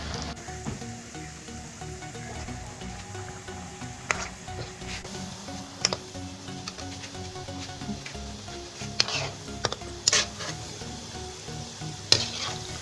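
Corn kebabs deep fry in oil with a constant bubbling sizzle, broken by a few sharp pops and clatters. The sound stays at moderate volume with no voices.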